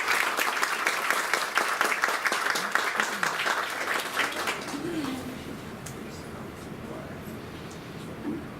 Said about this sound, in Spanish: Con un aplauso la recibimos.